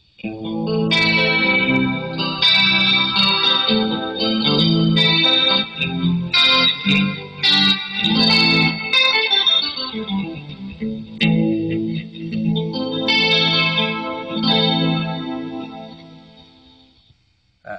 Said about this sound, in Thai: เสียงคอรัส